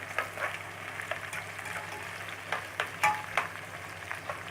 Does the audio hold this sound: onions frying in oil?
yes